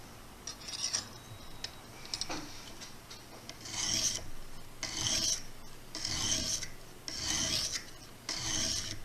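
A blunt knife drawn over the stone of a Lansky sharpening system gives rhythmic rasping strokes, close and fairly quiet, in a steady series of about five passes with no one talking.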